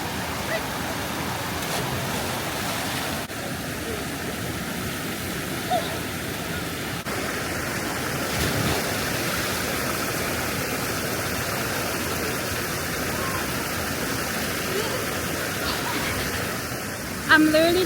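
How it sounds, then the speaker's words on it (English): A waterfall at a natural swimming spot gives a constant broad roar of rushing water that fills the whole stretch, with a brief louder burst near the end. "So that's a waterfall."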